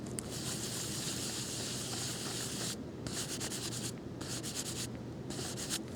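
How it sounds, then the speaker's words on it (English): An ink pad rubbed across an embossed stencil plate gives a close, dry scratchy scrubbing in repeated back-and-forth strokes, with several short pauses between passes. "and rub it across the top."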